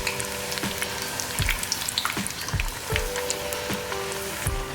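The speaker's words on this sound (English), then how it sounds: "fry the puris in medium hot oil until they turn crispy and" Methi masala puris fry in medium-hot oil in a kadai, a close, bright crackling sizzle with irregular popping spatters spread throughout, loud and continuous with no voices.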